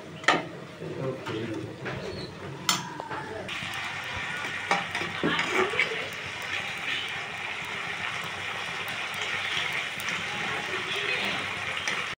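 Chopped onions and chillies fry in a pan with a steady, busy sizzle, punctuated by a few sharp scraping and stirring clicks early on, filling the background evenly.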